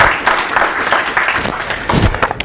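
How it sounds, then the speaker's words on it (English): An audience at a Tea Party outreach meeting with pastors claps in a brief, dense burst of applause, moderately loud, fading slightly toward the end. "Deserves an applause"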